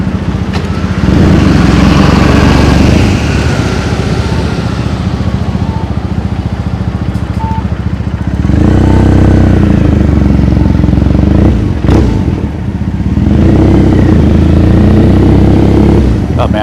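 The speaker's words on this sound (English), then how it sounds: "this bike just sounds so much better with the custom exhaust" A motorcycle fitted with a custom exhaust rumbles through Tokyo streets, a steady low engine drone with gear changes and revs rising and falling, loud and close over city traffic noise.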